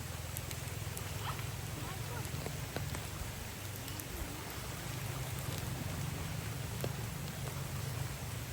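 Heavy rain falls continuously beside a stream, a thick, unbroken hiss with occasional louder drop hits and a low rumble beneath.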